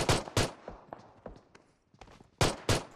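9mm pistol shots in PUBG Mobile come in two quick pairs, one at the start and one near the end, loud and sharp, with quieter footsteps and small clatters in the gap between.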